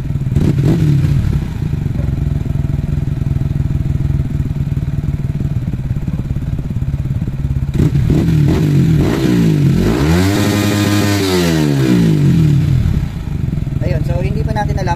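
A pit bike engine tuned with a Pittsbike ECU V4 Superpro idles with a steady rumble, then revs up and drops back in a single rising and falling sweep, with someone talking over it.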